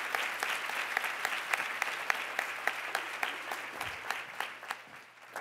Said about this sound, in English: How about a round of applause for that amazing